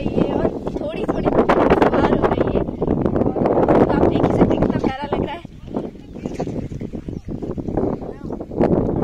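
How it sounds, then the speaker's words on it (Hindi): Wind buffets the microphone on hilltop ground in the monsoon at the Raita hills near Udaipur, with rough gusting rumble throughout and a person speaking underneath. "यहाँ हल्की हल्की हवा चल रही है"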